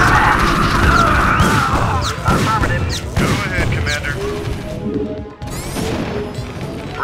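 Units under attack in the StarCraft Terran campaign, with loud dense in-game gunfire, crashes and rapid shots layered over each other, along with game voice lines and effects.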